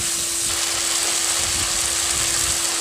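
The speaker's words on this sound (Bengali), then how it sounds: "দিয়ে ভালোভাবে নেড়ে চেড়ে ভেজে নেব" Ground spice paste fries with tomatoes in a pan for a fish curry, a steady close sizzle with a constant hiss and only faint stirring, no talk.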